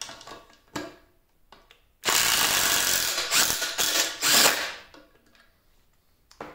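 Impact driver sinking a screw: one loud burst of about three seconds of hammering, rattling drive, with brief quieter clicks and taps before and after, no talking.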